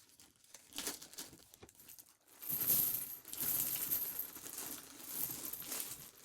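Coins are emptied out of a plastic bag while sorting a coin collection. Close, soft crinkling of plastic comes first, then a longer stretch of clinking, rattling coins mixed with bag rustle, with no talking.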